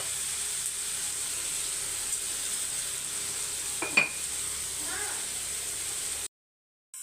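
Ingredients for rasam sautéing in a pan, a steady low sizzle with a couple of brief spatula scrapes near the middle, running until it cuts off abruptly near the end.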